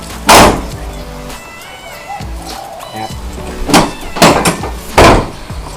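A pickup truck tailgate being opened, with a sharp latch clunk at the start followed by several heavy thumps and metallic knocks, loud and close, with faint mechanical rattles between.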